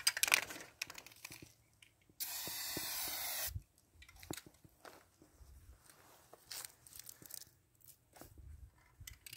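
A turbo spray paint can with a wide fan nozzle lets out one steady, loud hiss lasting about a second and a half, with quiet handling noises and footsteps before and after.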